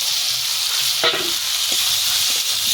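Potatoes and cauliflower frying in spice masala in a pan, a constant loud hiss of sizzling oil with a few soft stirring scrapes and clinks.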